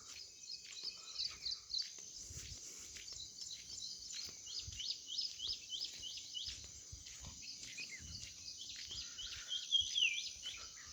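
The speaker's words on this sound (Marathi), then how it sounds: "हे पा पक्ष्यांचा केलबिलाट ऐकू येतोय का" Many small birds chirp and twitter continuously in the distance on a village morning, a busy chorus of quick, high calls over a quiet outdoor background.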